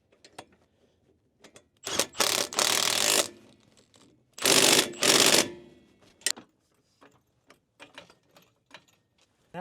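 Ratchet tightening two 17mm bracket bolts on the underside of a 2006–2012 Toyota RAV4 4WD during shock and strut replacement, heard as two loud bursts of rapid clicking, each a second or so long, followed by scattered faint knocks and clicks.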